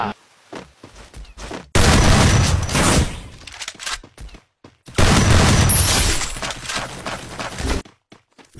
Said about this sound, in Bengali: ভিতর পিস্তলে কত গুলি আছে, চালাও চালা গুলি